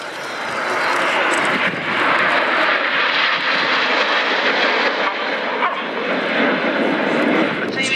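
Red Arrows BAE Hawk jet trainers fly in display formation at an air show, a broad, loud jet roar sustained throughout with a commentator talking over it.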